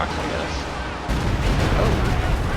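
A Stuka firing in Company of Heroes 2, a World War II strategy game, with battle noise that jumps abruptly louder into a rumbling barrage of blasts and gunfire.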